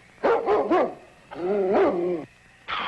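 A sled dog in a snowy Yukon radio drama barks three times in a quick run, then gives a longer, drawn-out bark-howl, followed by another bark at the end; loud and close, with no talking.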